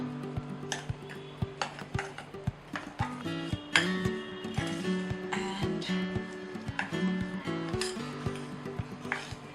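Cinnamon butter frosting being mixed in a bowl, with repeated clinks and scrapes of a utensil against the bowl in an irregular rhythm, close and fairly loud.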